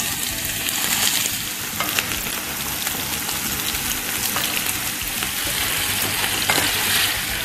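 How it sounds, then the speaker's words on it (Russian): Diced onion and chicken sizzle and crackle steadily in a hot pan, a dense close frying hiss with small pops and no talking. "Пока варится картошка, потушим лук с курицей."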